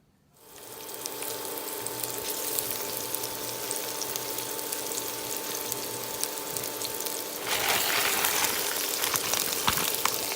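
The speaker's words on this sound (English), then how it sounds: "the next thing we're just going to do is saute our onions and carrots" Onions and carrots sauté in oil left over from frying fish, making a steady, close hiss. The hiss swells louder partway through, with no voices.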